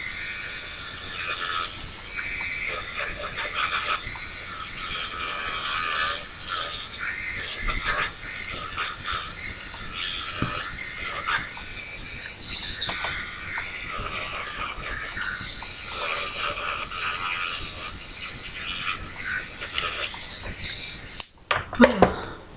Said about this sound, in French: je préfère donc prendre la ponceuse pour aller plus vite